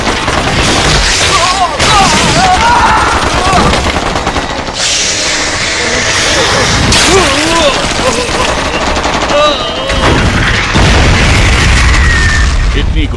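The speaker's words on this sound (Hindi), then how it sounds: "बिना रोके गोली चलाते रहो।" Sustained gunfire in a dubbed Hollywood action movie fills the scene, rapid automatic bursts and booms rolling on loudly and almost without pause, with raised voices mixed in among the shots.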